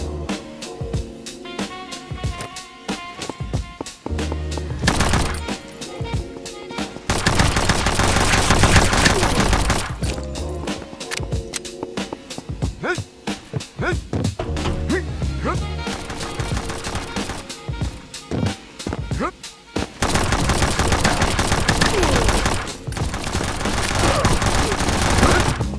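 Rapid gunfire from a gun in a mobile shooter video game, with bursts of automatic fire and single shots alternating with longer sustained volleys, loud and close, with brief in-game sounds between the bursts.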